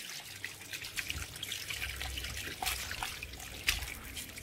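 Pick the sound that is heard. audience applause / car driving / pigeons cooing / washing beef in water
washing beef in water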